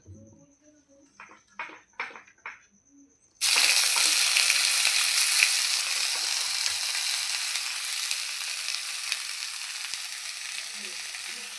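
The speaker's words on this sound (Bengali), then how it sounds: "এবার কলা মোচাটাকে হালকা তেলে একটু ভেজে নেব" Steamed banana flower frying in a small amount of oil, a loud, steady sizzle that starts abruptly and runs continuously, following a few brief clinks and stirring sounds.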